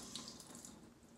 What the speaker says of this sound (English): and then I turn my sink on